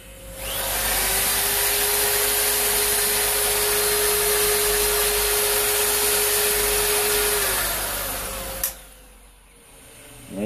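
A pommel nut being polished on a power tool: a loud, steady whirring grind runs for about eight seconds with a sustained tone, then cuts off with a sharp click as the machine winds down.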